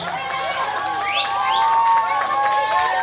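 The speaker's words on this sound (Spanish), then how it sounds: "Fuerte los aplausos para el payaso en ese día" An audience applauds a clown at a children's party performance, sustained clapping and cheering with a whistle-like melodic tone rising over the crowd noise throughout.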